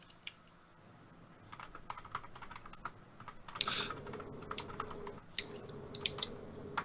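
Typing on a computer keyboard, a loose run of quick plastic key clicks with a few louder bursts in the second half, fairly close and heard alone without talk.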